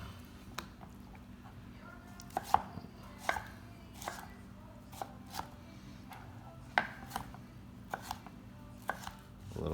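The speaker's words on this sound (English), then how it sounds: "Just cut it into slices, about the same size as the onions and the peppers." A knife slicing vegetables on a cutting board, a series of soft, irregularly spaced chopping knocks, quiet and close, with faint background hum.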